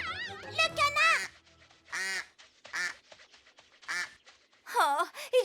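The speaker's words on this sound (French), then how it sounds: "Le canard!" Cartoon duck quacks come in several short, nasal bursts separated by brief pauses, close and clear, alongside animated character voices.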